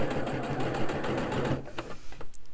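Sewing machine stitching a bound seam along the edge of a surgical gown, a loud, steady close-up whir of rapid stitches for about a second and a half, then stopping, followed by faint handling sounds.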